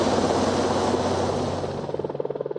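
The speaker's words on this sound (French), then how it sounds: "un hélicoptère de recherche et de sauvetage de l'armée de l'air fait son entrée" An air force search and rescue helicopter's rotor drones loudly overhead, its blades thumping into a distinct rapid chop as it draws nearer.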